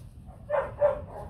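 A bobtailed puppy gives two short, high yips about a quarter-second apart, close by in a quiet space.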